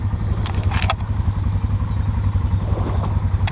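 An ATV engine revs hard and rough as its front tire spins in deep, soft mud on a state park trail, a close, steady mechanical drone with sputtering bursts.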